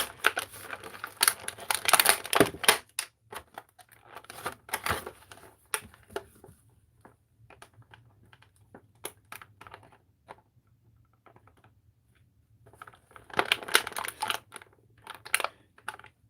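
Scissors cutting and crinkling stiff plastic packaging on a Beyblade toy produce dense bursts of snipping, crunching and rustling, then sparse scattered clicks, then another heavy flurry of crinkling near the end.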